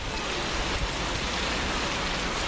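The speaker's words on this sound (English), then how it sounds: "that rain that we had in Basingstoke has finally caught up with us" Heavy torrential rain pouring down steadily in Scotland, a dense continuous hiss with no letup and no voices throughout.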